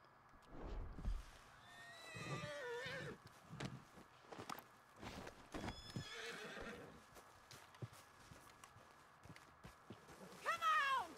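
A horse in the video game Red Dead Redemption 2 whinnies loudly several times, with clip-clopping hooves, footsteps and scattered game sounds around it.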